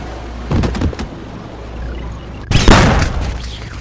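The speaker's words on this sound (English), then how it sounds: "Okay, fireworks show." Fireworks go off in a modded video game, with a couple of muffled booms and crackles early on, then a louder burst with a long crackling rumble.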